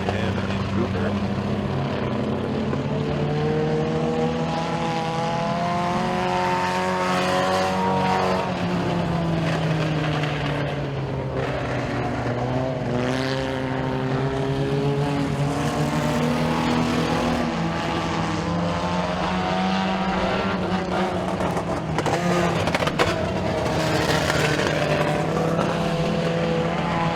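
Race cars circling the dirt oval at Stateline Speedway during heat races, engines rising and falling in pitch as they pass, loud and continuous under an announcer talking.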